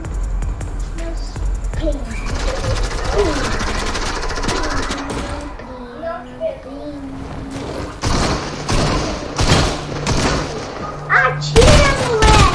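Rapid bursts of gunfire in a video game crackle loudly in fast fusillades, mixed with game music and effects while people talk excitedly over the action.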